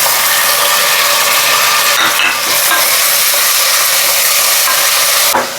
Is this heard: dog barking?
no